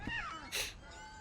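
A cat meows in the video game What Remains of Edith Finch, a short, clear, close call over soft game ambience.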